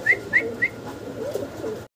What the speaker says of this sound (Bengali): একটা ইয়েলো কালারের ড্যানিশ কবুতর।